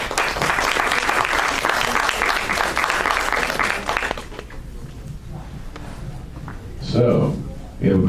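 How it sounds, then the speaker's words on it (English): Loud applause from a panel discussion audience greets the panelists, dense and sustained for about four seconds before fading, then a voice speaks briefly alone. "Let's give a round of applause"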